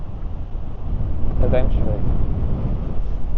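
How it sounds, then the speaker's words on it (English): Strong wind buffets the microphone beside an open field, a steady loud rumble throughout with a brief spoken word partway through. "standing next to a field on a very windy day"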